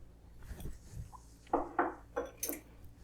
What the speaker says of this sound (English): we're gonna put the cherry tomatoes in